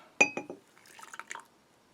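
A small amount of water, about two ounces, is poured into a cup for instant coffee from an Italian combat ration, with a few sharp clinks followed by quiet trickling and dripping, close and faint.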